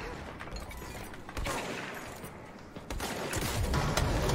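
Weapon fire in the video game Control, a dense, continuous barrage of shots with sharp louder bursts, close and steady throughout with no voices.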